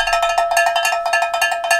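A bright, cowbell-like ticker sound effect taps out a quick, even run of metallic clicks, loud and alone, with no talking over it.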